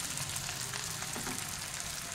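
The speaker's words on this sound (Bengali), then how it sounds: "প্রথম ব্যাচটা আমার ভাজা হচ্ছে" A first batch of homemade pasta snacks deep-frying in hot oil gives a steady, close crackling sizzle with fine bubbling, moderately loud and continuous with no talk.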